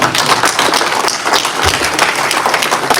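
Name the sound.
round of applause at Greyhound Derby final speech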